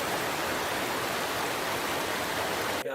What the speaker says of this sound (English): Cut to the clip of a waterfall.